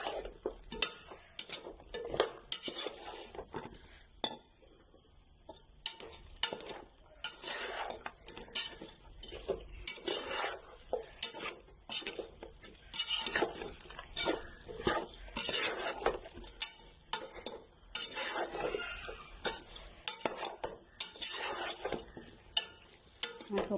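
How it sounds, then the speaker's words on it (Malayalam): Fried chicken pieces stirred into a pan for Kerala-style chicken pickle, with repeated scraping and clinking of a spoon against the pan over a light sizzle, steady and close throughout. "ഇത് ഇളക്കി കൊടുക്കും"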